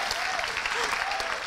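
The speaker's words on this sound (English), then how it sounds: "You can applaud Fred for the music" Audience applause at a university master's thesis defense, a short, even burst of many hands clapping together, close and steady.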